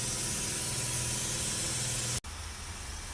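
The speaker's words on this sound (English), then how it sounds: "clean it out and then spray some primer over it so it don't rust." Primer sprayed from an aerosol can onto a Silverado rear panel during a window swap repair: a loud, steady close-up hiss lasting about two seconds, then cutting off abruptly, followed by quieter background noise.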